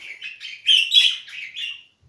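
A budgerigar with a serious eye problem chirps in a quick run of bright, close tweets, a few rising louder in the middle before the calls trail off to quiet.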